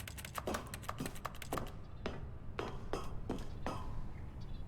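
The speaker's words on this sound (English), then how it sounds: "it sounded like him typing on a keyboard" Keyboard typing sound effect from the video game The Stanley Parable: a quick run of close, crisp key taps, then a few slower separated clicks, alone without talk.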